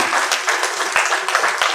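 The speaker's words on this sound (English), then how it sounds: "Please give them a round of applause, please" Audience applause at a health minister's visit to medical facilities in Lagos State, a brief burst of many hands clapping with a few sharper individual claps standing out.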